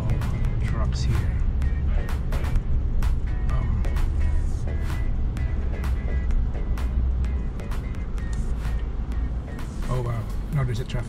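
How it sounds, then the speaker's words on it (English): Steady low road rumble from a traffic jam packed with trucks the day after Hurricane Dorian in Vero Beach, Florida, continuous and fairly loud throughout, with scattered clicks and knocks and a voice now and then. "there's also a lot of trucks here"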